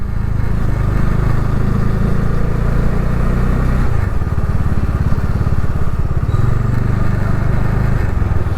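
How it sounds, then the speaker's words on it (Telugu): Motorcycles and two-wheelers idling and moving at a parking area near a temple entrance, a steady low engine drone throughout that shifts in pitch partway through, with no talk. "ఇదే మోటార్ సైకిల్స్."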